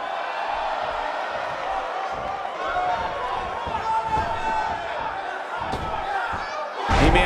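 Arena crowd in the WWE 2K18 wrestling game roars and cheers steadily throughout, a dense continuous wall of noise under play-by-play commentary, swelling louder at the very end.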